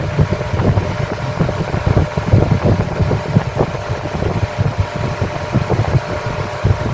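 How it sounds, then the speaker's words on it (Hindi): Single-phase blower motor running at full speed, a loud continuous rumbling whoosh of moving air with a steady low-pitched motor drone and fluttering turbulence throughout. "आपको आवाज़ से पता लग रहा होगा कि ब्लोअर फुल स्पीड पे चल रहा है।"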